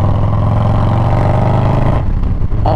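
A motorcycle engine roars continuously and loudly at close range while riding onto the highway, with a steady throttle and a slight dip near the end, and no voices.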